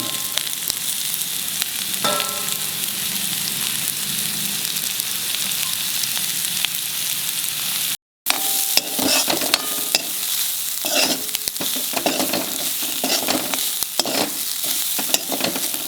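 Onions fry with garlic, coconut and turmeric in a pan, giving a steady loud sizzle with stirring scrapes throughout and a brief dropout midway.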